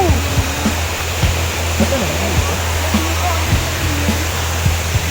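Kilangin Falls pours with a loud, constant rushing roar of water. Voices and exclamations come through intermittently above the steady wash.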